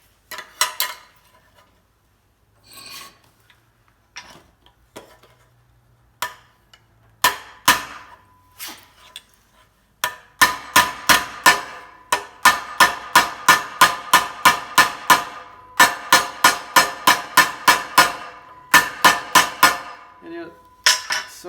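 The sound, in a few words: hammering sheet metal corner patch on 1950 Plymouth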